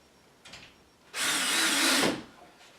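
A power drill drives a screw into plywood benchwork in one loud whirring burst of about a second, preceded by a faint short click and with no voices.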